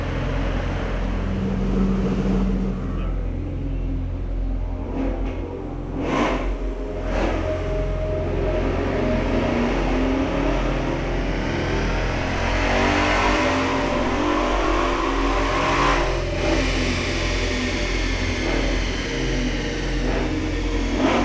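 A 2017 Roush Mustang 5-litre V8 engine roars and revs loudly and continuously on a dyno, rising and falling in pitch with heavy mechanical rumble.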